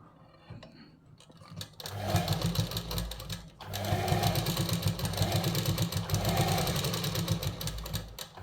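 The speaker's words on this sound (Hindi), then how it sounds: "फिर इसके ऊपर सिलाई लगा देना है।" A sewing machine runs in several bursts while stitching a seam on a simple kurta, with a steady rapid whir after a quieter start and a short pause midway, no talking.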